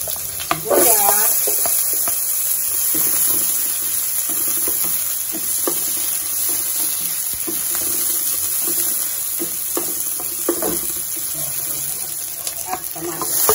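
Garlic sautéing in a pan for tokwa't baboy with pork, a steady close sizzle with scraping stir strokes throughout while someone talks now and then.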